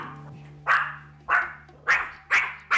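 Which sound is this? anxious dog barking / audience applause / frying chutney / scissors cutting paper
anxious dog barking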